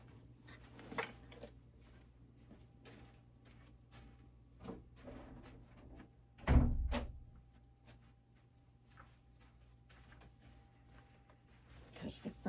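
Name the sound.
door being shut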